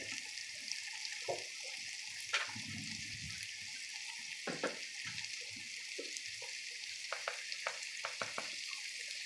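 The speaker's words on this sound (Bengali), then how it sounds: "পেস্টগুলো তেলের মধ্যে একটু সামান্য পরিমাণ ভেজে নেব যাতে আদা রসুনের ফ্লেভার না আসে" Ginger-garlic paste frying in oil for chicken khichuri, a soft, steady sizzle hissing throughout, broken by scattered light clicks and scrapes of stirring.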